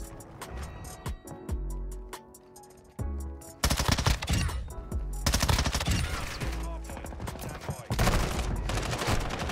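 Lachmann Shroud submachine gun in Modern Warfare 2 fires in repeated loud, close bursts of rapid shots, broken by short pauses, with battle noise between them.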